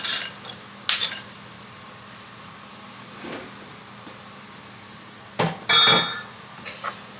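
Chocolate chips rattling into a glass bowl, two short bright bursts of clinking at the start and another pair near the end, separated by quiet.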